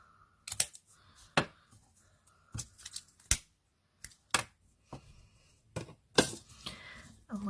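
Scissors snip off excess sock material for a detachable hairbow in a string of quiet, sharp, close cuts spaced irregularly around one to two per second.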